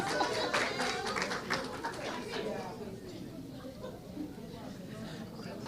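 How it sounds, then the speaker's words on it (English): An audience at a language education policy conference applauds in a dense burst that gradually thins and fades, with a voice speaking over and after the clapping. "Let us clap for her, please."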